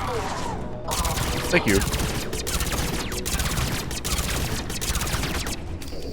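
Video game gunfire in a shooter, a dense crackle of rapid shots and bursts running throughout, with a player's voice speaking briefly over it.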